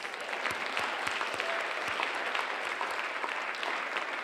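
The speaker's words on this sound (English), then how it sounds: "Sisters, a round of applause." At a lecture-series event, an audience gives a sustained round of applause, with individual claps standing out over a continuous, even wash of clapping.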